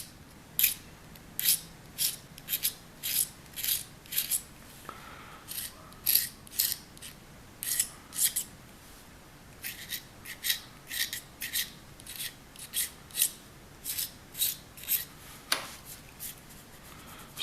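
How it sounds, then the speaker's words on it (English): Repeated rasping scrapes of a hand scraper dragging epoxy off a hard metal casting, steady strokes about one per second, close and alone with no talking. "Let's use that scraper."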